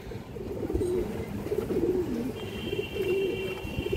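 Female domestic pigeon offered for sale, cooing in repeated low throaty rolls close by, steady through the few seconds with a faint chirp in the background.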